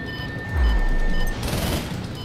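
A mech-mounted machine gun fires in Project Nimbus, a dense rattling burst with a heavy low thump that swells midway and then trails into a rumbling tail.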